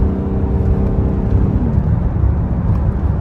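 A 2008–2010 car in auto-stick mode being downshifted with paddle shifters: a loud, close engine drone whose tone steps down partway through, then continues as a rougher rumble inside the cabin.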